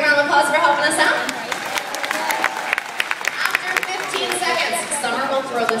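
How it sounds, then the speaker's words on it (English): An audience claps for a volunteer at a stage event, a steady patter of applause mixed with crowd chatter and voices throughout. "We're going to give her a big round of applause for helping us out."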